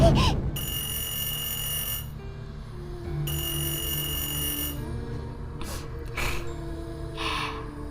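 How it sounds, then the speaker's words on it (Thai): A telephone rings in a horror video game, loud and close, in repeated bursts of bright electronic trilling separated by short pauses over a low ambient hum. "เสียงโทรศัพท์"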